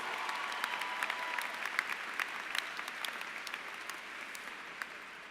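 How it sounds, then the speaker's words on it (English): Graduates and guests at a Rutgers School of Social Work convocation applaud in a steady, dense clapping wash, with sharper individual claps popping out near and far and no speech on top. "give yourselves a round of applause for finishing this part of the race"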